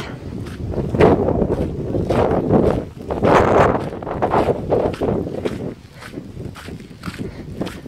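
Strong wind buffets the microphone in loud, irregular gusts that rise and fall for several seconds.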